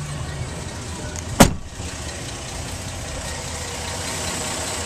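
A 2010 Jeep Grand Cherokee Laredo with about 26,805 miles idles steadily at low, even volume, broken once by a single sharp click or thump about a second and a half in.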